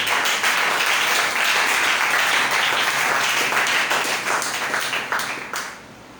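A church congregation breaks into loud, sustained applause with dense clapping and some cheering, holding steady for several seconds before fading out at the end.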